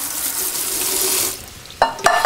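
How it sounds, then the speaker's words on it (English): Cool tap water pours over spaghetti in a colander in a kitchen sink, a steady hissing rush for over a second, then stops, followed by short clattering splashes as the pasta is moved. "I like to hit it with cool water to stop it from cooking a little bit."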